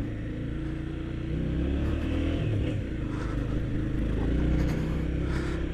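Traffic rumbles through the crowded centre of Santana de Parnaíba: a continuous low drone of car and motorcycle engines, with occasional revving passes nearby and a truck in the mix, no talking.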